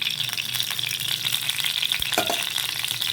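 Spices sputter in hot oil as a tempering for curd, producing a steady close sizzle with small crackles and a light rattle partway through, with no talking.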